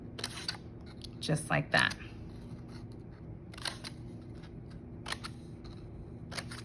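Scissors snip through paper during an afternoon paper sculpture craft, giving a few quick cuts in a short cluster under light talk, with softer paper handling sounds afterward.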